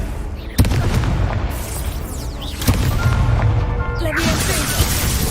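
Confringo explosion spell cast in the video game Hogwarts Legacy, two sharp booming blasts a couple of seconds apart, each with a short crackling burst and a rumbling tail over game background.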